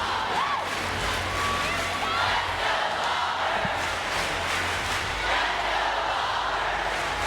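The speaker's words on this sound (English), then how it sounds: "And you can hear this crowd." A packed arena crowd at an NCAA women's gymnastics regional final in Auburn's Neville Arena roars with sustained cheering, whoops and high shouts, loud and continuous throughout with scattered voices rising above the din.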